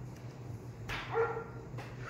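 A dog lets out one short, fairly faint woof. It comes in the middle of a quiet room with a low background hum and no other barking.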